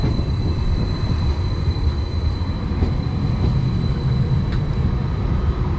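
Steady low rumble of a passenger train idling or moving slowly at a platform on the East Suffolk Line, in winter, with a constant high electrical whine and occasional faint clanks.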